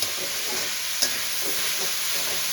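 Vegetables stir-fried on high flame for restaurant-style noodles, with salt added: a steady, loud sizzle and hiss throughout, with light stirring scrapes and no talking.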